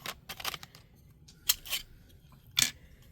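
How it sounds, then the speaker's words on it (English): Shapes being cut from a rolled sheet with cutters, a few short crisp snips and clicks in separate bursts, close and fairly quiet, with no talk. "what I'm going to do is get some of my cutters out and cut these different sizes"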